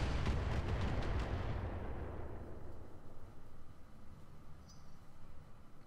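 Heavy weapons fire in the Roguetech BattleTech mod video game: a loud booming burst that rolls off into a long fading rumble, with no talk over it.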